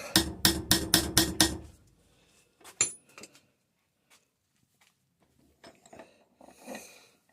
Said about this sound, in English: Need to start using the hammer.